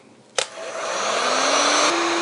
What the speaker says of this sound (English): The heat gun is a really good source to throw in an inverter because it's not really the cleanest load.